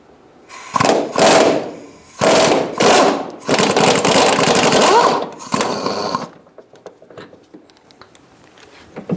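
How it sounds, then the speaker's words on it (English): A power tool, most likely an impact wrench, removes a 19mm bolt in the rear wheel well of a 2010-2013 Kia Soul in several loud, close bursts of buzzing rattle, then stops, leaving faint clicks and handling noises. "that's also a 19mm. So we're going to take this bolt out now."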